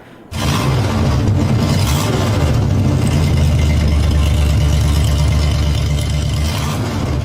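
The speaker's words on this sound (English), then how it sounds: "you hear the revving" A vehicle engine roars up suddenly and holds a loud, steady growl throughout, close by, with no voices.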